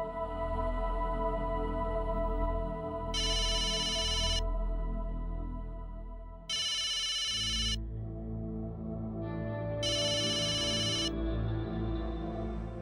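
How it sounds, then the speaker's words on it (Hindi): A phone ringtone sounds in three separate electronic rings, evenly spaced, over a steady low background hum with no talking. "फोन लगा।"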